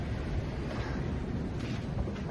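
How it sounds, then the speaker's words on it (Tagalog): Strong snowstorm wind gusting at roughly 70 to 80 km/h near a shed in Canada, a steady loud roar buffeting the microphone without pause. "It's like 70 to 80 kilometers per hour wind gust."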